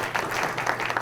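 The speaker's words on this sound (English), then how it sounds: "Can we have a round of applause for Nick?" Audience applause at a Design Duluth talk, a steady wash of many hands clapping, moderately loud and continuous for about a second, with no voices on top.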